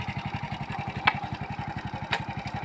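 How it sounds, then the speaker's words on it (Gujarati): A motorcycle engine idles close by with a steady, rapid low thumping throughout, broken by two brief sharper clicks; no one speaks over it. "બાઈક બાઈક બંધ કરો તમે"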